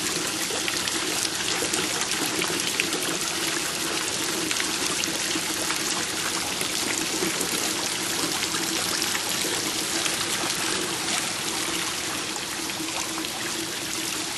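Water trickles and splashes steadily in a garden water feature, a continuous close, even pouring sound with no voices over it.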